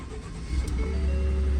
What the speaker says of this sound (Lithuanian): variklis gražiai dirba